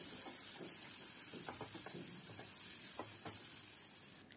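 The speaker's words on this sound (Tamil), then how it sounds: "மசாலா பொடி எல்லாமே எண்ணெயில் நல்லா 2 நிமிஷம் நல்லா வதக்கி விடணும்" Masala powders with turmeric sautéing in oil for a karamani kuzhambu with brinjal and drumstick, a steady close sizzle with faint scraping stirs throughout, no voices.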